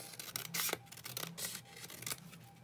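Scissors trimming paper while making faux envelope pockets from collage book pages, a few short crisp snips and rustles close by, with no talking.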